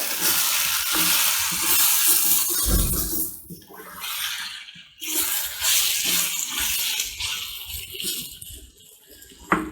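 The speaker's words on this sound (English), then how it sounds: "let's open the lid. Stir this well." A spoon stirs spicy cuttlefish and potato curry in a pot, Sri Lankan style, after the lid is lifted: close wet scraping and sloshing with soft sizzling, in uneven bursts and no talk.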